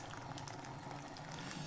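Freshly boiled water from a kettle pours into a flaxseed bread mixture, a soft, steady gurgling stream heard up close and faint.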